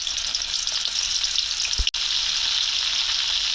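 Onions fry in hot oil for a large boal fish head curry, a loud, steady sizzle with a brief low thump and a momentary dropout before the hiss resumes unchanged.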